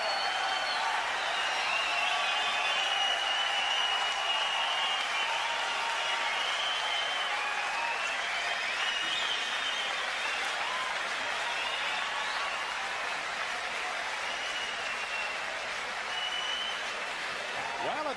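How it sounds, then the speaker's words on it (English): The boxing crowd applauds steadily after the Ribalta vs Schulz fight in Austria, a dense, even wash of clapping that lasts throughout with a commentator talking over it. "the crowd loved every moment"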